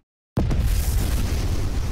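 Huge explosion in a 1977 Voltes V anime fight scene, a sudden loud blast after a brief silence that holds as a dense, sustained roar for well over a second.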